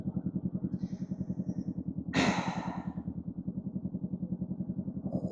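A Honda motorcycle engine thrums in a steady, close, rhythmic pulse throughout, with a brief hissing breath-like burst in the middle.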